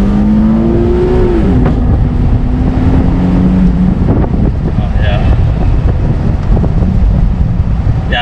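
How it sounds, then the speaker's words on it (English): A 2015 Infiniti Q60 IPL convertible launches, its engine revving up and accelerating hard, pitch climbing then shifting, with strong wind and road rumble buffeting the microphone. "now I'm actually driving this 2015 Infiniti Q60 IPL and launching it"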